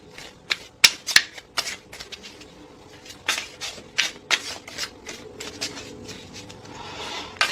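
Tarot cards are shuffled by hand during a zodiac reading, giving a run of crisp riffling snaps and soft rubbing flutters in irregular bursts, close and fairly loud, with no talking.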